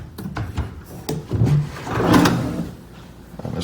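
Large wooden dresser drawers in a hotel room slide open and shut, giving several short scraping rubs and soft knocks over a few seconds, close and moderately loud with no talking.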